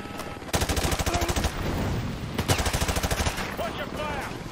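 Rapid machine-gun fire in the Call of Duty: Modern Warfare 2 campaign. Loud, steady bursts of shots come in two long runs, with battle noise and faint voices behind them.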